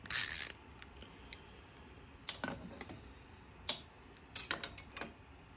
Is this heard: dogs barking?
no